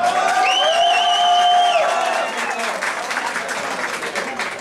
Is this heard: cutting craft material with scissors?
no